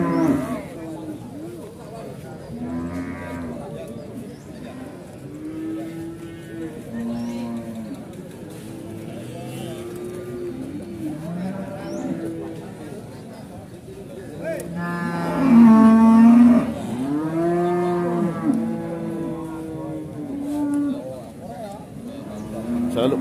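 Cattle, including Pegon cows, low repeatedly at a livestock market, several deep moos rising and falling close by, one loud drawn-out call in the middle, with people talking between them.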